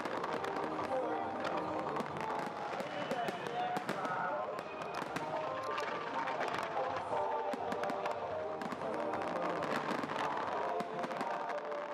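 Dense crackling and popping of a New Year's fireworks display going off continuously, with scattered sharp bangs over a crowd murmur and voices talking throughout.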